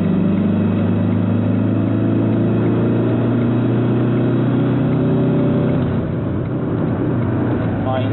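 A Ford Tourneo Connect accelerates from 60 in third gear, its engine drone rising steadily in pitch inside the cabin for several seconds before easing, with road noise beneath and someone speaking over it.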